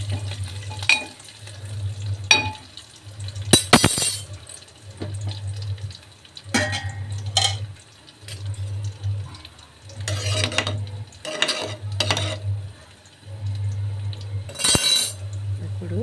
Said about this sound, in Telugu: కరివేపాకు రెబ్బలు కరివేపాకు వేసుకోండి. బాగా వేగాలండి.